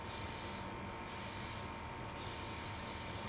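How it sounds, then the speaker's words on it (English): Spray gun applying 1K white paint to a stripped Honda CRM250AR motorcycle frame: a continuous close hiss of atomizing paint, dipping briefly twice as the passes pause, with no talk. "we spray the frame with 2 coats of 1K Shasta white paint."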